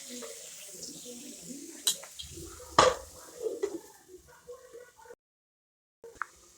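Masala for a val bean pod dish is stirred in a covered cooking pot: intermittent metal scrapes and clinks, one sharp knock, then a short silence before a final clink.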